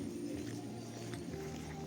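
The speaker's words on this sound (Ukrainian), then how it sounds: "Співають пташки." Birds sing and call softly outdoors in spring in Truskavets, with low cooing notes among the chirps over a steady, quiet background.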